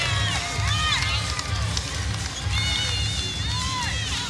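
A basketball arena crowd roars and cheers steadily during an SMU scoring run against California, dense and loud throughout, with whistles and shouts rising above the noise.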